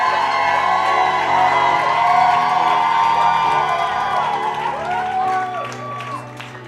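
A church congregation cheers and applauds. A dense, sustained wall of clapping, whoops and raised voices with rising and falling tones stays loud throughout and fades slightly near the end.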